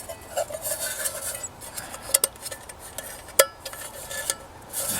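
A Stanley metal canteen cup and stove cook kit being handled: light clinks and scrapes of metal against metal, with a few sharper knocks, close up and with no talking.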